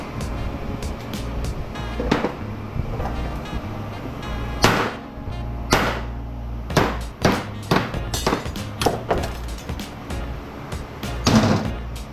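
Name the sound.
hammering scrap metal on an anvil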